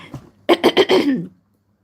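A person coughs in a quick run of four harsh, close bursts, trailing into a throaty rasp before falling silent.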